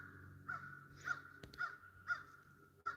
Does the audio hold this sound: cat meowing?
no